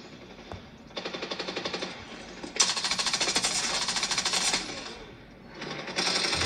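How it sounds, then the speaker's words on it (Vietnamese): Rapid automatic gunfire in a mobile shooter game, loud bursts of fast rattling shots with brief pauses between them, close and dominant. "Bắn ghê thế."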